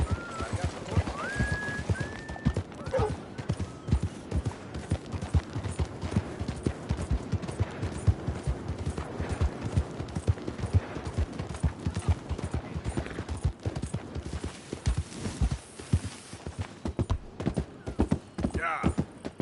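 Rapid hooves pound in a steady galloping rhythm for the whole stretch in Red Dead Redemption 2, close and loud, with a brief whinny early on and voices over it.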